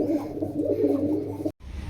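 Pigeons in a loft coo close by, overlapping low throaty warbles rolling steadily, broken by a momentary cut near the end.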